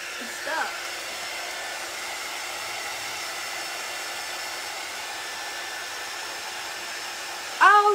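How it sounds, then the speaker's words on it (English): A heat gun blows a steady, loud broadband rush of hot air that runs almost the entire time, with a brief clatter near the start and a sharper sound at the very end. "Let's hit it with the heat gun."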